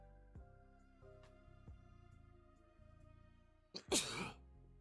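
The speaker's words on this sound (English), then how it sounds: "About to sneeze." A single sharp sneeze bursts out near the end, loud and close, after a stretch of quiet background hum.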